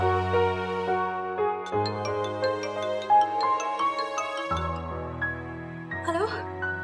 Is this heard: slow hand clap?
no